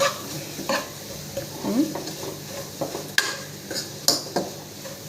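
Onion, tomato, garlic and chilli, coriander and turmeric powders sauté in oil for egg sambar, a quiet sizzle broken by repeated sharp clinks and scrapes of a spoon stirring the pan.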